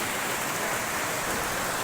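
Steady, dense hiss of rain pouring down, constant and fairly close with no voices.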